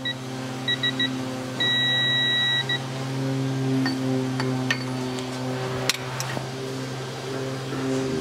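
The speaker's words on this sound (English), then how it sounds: "the alarm goes off, but I can see it hit 210." A few short electronic beeps from a torque wrench alarm, followed by one longer sustained tone, over a steady low mechanical hum and occasional faint clicks, during a brake disc change on a 2010 Land Rover Defender.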